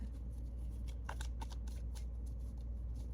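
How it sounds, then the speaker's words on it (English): Tarot cards are shuffled in a rapid series of soft riffling flicks over a steady low hum, with no talking. "I'm actually gonna pull a tarot card to see"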